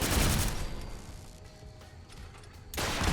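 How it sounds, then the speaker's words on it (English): A booby-trapped missile launcher turret in Fallout 4 fires, giving a loud blasting rush at the start that fades into a rumbling tail before another heavy burst hits at the end. "We just got shot at by a missile launcher."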